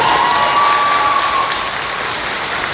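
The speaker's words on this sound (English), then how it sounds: "I think a round of applause for him now," Loud, dense applause fills a Q&A session hall, steady and close throughout, with a faint high tone briefly ringing over the clapping early on.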